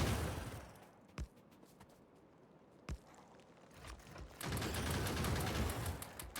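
Turret fire during turret creep in the game Factorio: two sharp isolated shots, then a dense, sustained burst of rapid gunfire that continues to the end, with no talk.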